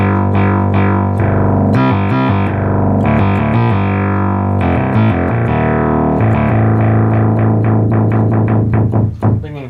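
A fire-damaged, restored Micromoog synthesizer plays a loud, buzzy monophonic line with sustained notes that change pitch, plus a stretch of rapid repeated pulses near the end.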